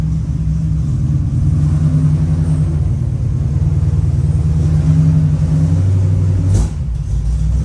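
Ford Falcon engine idling roughly with no throttle input, a close, steady low rumble with uneven pulsing that holds throughout, alone without talk.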